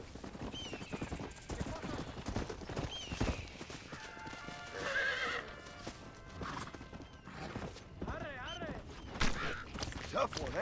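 Horses neigh and whinny repeatedly over galloping clip-clop hooves in the video game Red Dead Redemption, close and loud, with a voice talking over parts of it.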